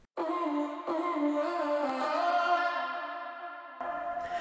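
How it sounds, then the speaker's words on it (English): A sustained, washy sound swims in a big boomy reverb, its tail smearing and ringing out for several seconds. "if you want like this really big kind of boomy washy reverb"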